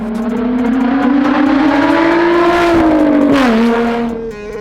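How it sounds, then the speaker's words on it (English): A Volkswagen GTI 2.8-liter VR6 narrow-angle V6 revs loud and close in a mid-engine go-kart, its droning engine note climbing steadily, easing off briefly, then holding a raspy hum before dropping away. "They're commonly referred to as Wookiees because they have a sound that kind of sounds like a Wookiee."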